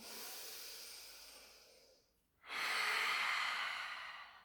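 Slow, deliberate breathing during an intermediate pilates exercise: a long, soft airy exhale fades to a brief pause, then a strong, full inhale swells close to the microphone.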